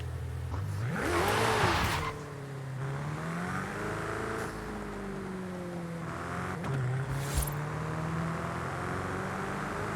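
A Ferrari convertible engine in the racing game Forza Horizon 5 revs up loudly with a rising and falling pitch, then settles into a steady drone under continuous road noise.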